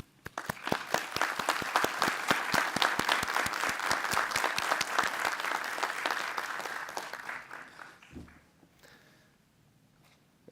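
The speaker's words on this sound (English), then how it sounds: "please take this moment to applaud those who have supported you" A university commencement audience bursts into applause for their supporters, dense sustained clapping from a large crowd that swells quickly, holds for several seconds, then thins and fades out.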